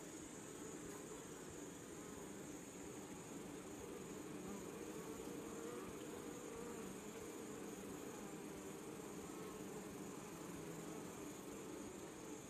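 Honey bees hum steadily at an apiary hive, a dense, continuous drone with a faint high whine, constant in level and without talk throughout.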